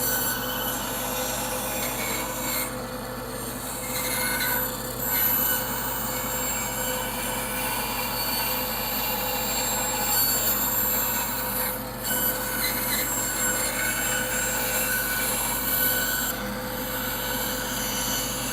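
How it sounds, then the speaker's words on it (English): A bandsaw cuts the internal parts of wooden letter forms, producing a continuous loud, whining, rasping drone with slight swells and dips as the blade works through the piece. "on the idea of using a bandsaw to cut the internal parts of some of the letter forms that have inside cuts"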